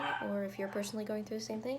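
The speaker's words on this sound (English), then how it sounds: "We just got a new puppy and she's gonna start barking." New puppy yapping in the background, a quick run of short high barks repeated several times under a person speaking close by.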